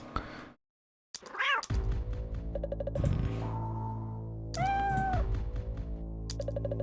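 Cat meows in a video game, a few short tonal mews sounding over a steady, dark game music theme, with a brief silent gap near the start.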